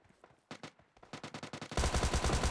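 Gunfire in a shooter video game: a few scattered single shots build into rapid automatic bursts that end in a loud, dense volley, all fairly quiet overall.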